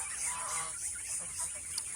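A goose honks and calls in a rural outdoor setting, fairly faint and continuous over steady background noise, with no voices.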